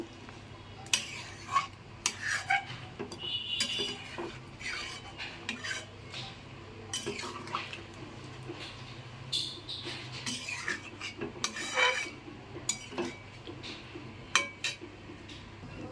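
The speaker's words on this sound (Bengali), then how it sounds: "এবার সব কিছুকে আরও একবার মিশিয়ে নেব" A spoon stirs a thin, watery curry in a metal pot, giving intermittent scrapes and clinks against the sides, fairly quiet and close, with no speech.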